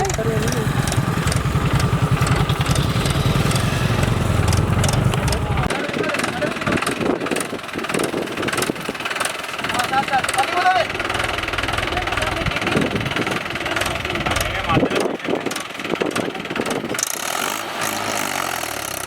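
A tractor engine labours through dense forest, its steady, loud, knocking diesel chug continuing throughout while someone talks over it.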